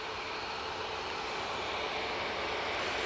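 Airliner departing Manchester Airport, bound for Djerba, heard as a steady, broad engine roar that holds level and fairly close for a few seconds.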